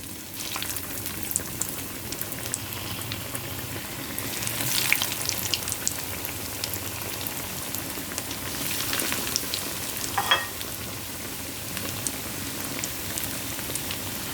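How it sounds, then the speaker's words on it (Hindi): Chicken bread patties fry in hot oil with a steady, dense sizzle and crackle, close and continuous, with occasional louder pops and spatters throughout and no talking. "अब हम इसको फ्राई करेंगे।"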